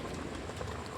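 Liquid boils in a cooking pot while beef skin simmers, giving a steady dense bubbling and hissing that stays close and even throughout the short moment.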